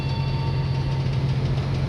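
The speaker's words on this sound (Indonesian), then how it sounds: "Keberangkatan kereta api Pariangan dari stasiun Gambir dari stasiun Bandung menuju stasiun Gambir" Parahyangan passenger train running on rails between Bandung and Gambir, a loud continuous low rumble with steady rolling wheel noise heard from close by, no talking.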